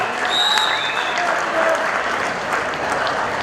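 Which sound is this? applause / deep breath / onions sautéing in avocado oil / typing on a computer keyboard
applause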